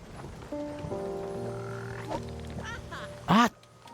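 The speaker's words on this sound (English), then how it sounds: "Ooh, I think this is the frog we need" A frog croaks in a farming video game, a short loud call near the end over a steady bed of game music and ambience.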